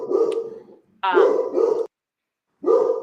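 A dog barks outdoors in short bursts, a couple of close, sharp barks followed by a pause and another bark, heard without speech.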